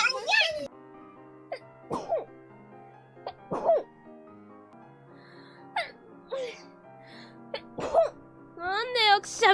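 Several sharp, voiced sneezes from streamers burst out one after another across the stretch, each a short loud explosive gasp and release, separated by quieter breathing and vocal noises.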